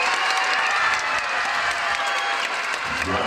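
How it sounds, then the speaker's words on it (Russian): Circus audience in Novorossiysk claps in a thick, continuous roll of applause with some crowd noise, steady and fairly loud from start to finish. "Я не слышу ваших аплодисментов."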